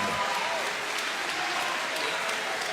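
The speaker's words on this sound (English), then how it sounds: "I want a big applause for these two giants, Shah Kamali and Jamie van Bemmelen" A crowd at a fight event in Amsterdam applauds the two fighters after the bout, producing a dense, continuous roar of clapping with a few voices mixed in.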